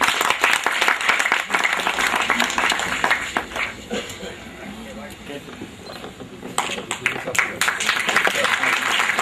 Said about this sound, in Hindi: जोरदार तालियां हो जाए मधुसूदन अग्रवाल जी के लिए।